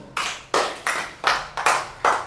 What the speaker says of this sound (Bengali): সুন্দর একটা প্রশ্ন করছে গুড ওর জন্য একটা হাততালি দাও